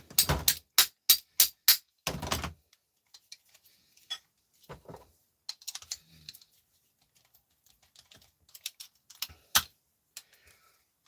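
A hammer knocks security screws out of aluminium in a series of sharp, close metallic strikes, a rapid run of heavy blows at first, then sparser lighter taps spread through near silence.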